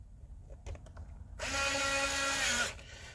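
A Dremel powered screwdriver whirs as it drives screws back into an iRobot M6 Braava Jet mop robot, a single steady whine lasting just over a second after some faint handling clicks.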